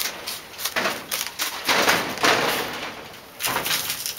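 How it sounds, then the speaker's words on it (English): Wind gusts buffet a newly built greenhouse, giving rough, irregular rushing and flapping surges that rise and fall in waves for a few seconds, fairly close and loud. "That noise you hear is the wind blowing my new greenhouse around"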